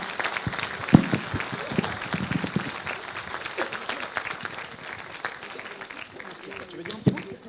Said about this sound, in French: je vous demande effectivement donc d'applaudir Claudie Jason